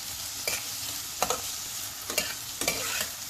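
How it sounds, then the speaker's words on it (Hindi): Sliced onions with a little salt fry on a high flame in a pan, giving a steady loud sizzle broken by four regular scraping strokes of a spoon stirring them. "हाई फ्लेम पर इसे चला चला कर इस तरह से भूनते रहें।"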